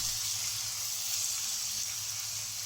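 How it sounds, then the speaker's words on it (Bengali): Ginger and garlic paste frying in a pan for a Bangladeshi chicken and new potato curry: a quiet, even sizzle with a low steady hum beneath, continuous and close, no voices. "আদা রসুনটাকে কিছু সময় ভেজে নিতে হবে যতক্ষণ না আদা রসুনের কাঁচা গন্ধটা চলে যায়"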